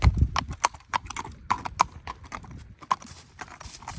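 Shod hooves of a six-year-old quarter horse gelding clop in a quick, uneven rhythm as he is ridden around on firm ground, fairly close, with faint outdoor background and no clear talk.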